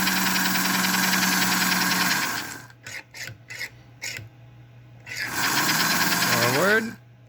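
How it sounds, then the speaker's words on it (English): A model Alco diesel locomotive runs on a powered rolling road, giving a loud steady raspy motor whir that stops and starts in short bursts, then spins up again with a rising pitch. "So you can run a diesel or a steam engine on these rollers."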